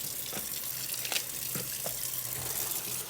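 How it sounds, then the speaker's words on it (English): Greens for an Italian greens-and-beans dish rinsed under a running kitchen tap, a steady soft stream of water with occasional splashy bursts as leaves move through it, close and continuous with no talking. "give it a good once over rinsing"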